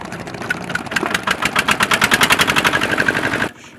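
A shallow-type engine on a river boat on the Buriganga in Dhaka starts up close by and runs in a loud, rapid, evenly pulsing chug, then cuts off abruptly near the end.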